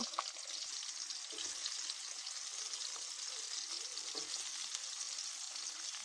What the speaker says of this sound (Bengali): তেলটা গরম হলে এর ভেতরে আমি করলাগুলো এইভাবে দিয়ে নেব